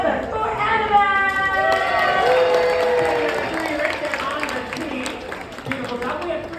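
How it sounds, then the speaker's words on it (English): Crowd applause and cheering for a one-year-old baby at a diaper dash race aboard the Disney Magic cruise ship, with a voice calling out over it, swelling midway then tapering off. "So put your hands together for Annabelle!"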